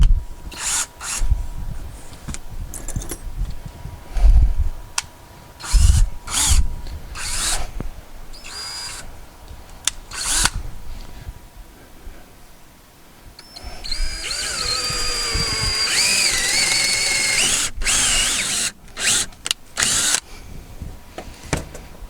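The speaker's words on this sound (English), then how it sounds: "Now we'll drill for the bolts." Power drill boring holes for the mounting bolts of a Zurn carrier for a wall-hung toilet, with bursts of close, loud whirring broken up by clunks and handling noise, and a sustained high whine near the end.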